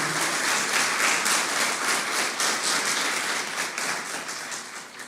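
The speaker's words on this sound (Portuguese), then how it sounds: "Vamos aplaudir o nosso Deus bem forte, como Ele merece ser aplaudido" A church congregation applauds in worship, a thick, continuous wash of many hands clapping at moderate volume that holds steady and then tapers slightly toward the end, with no voice over it.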